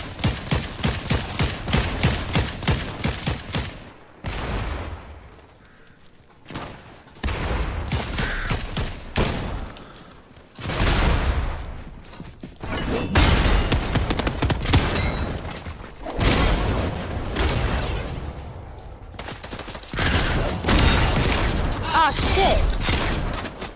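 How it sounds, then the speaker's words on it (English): Rapid gunfire bursts in a video game, loud fusillades and booms in repeated waves with brief gaps between volleys, punctuated by shattering and thuds. "Who else is shooting at me?"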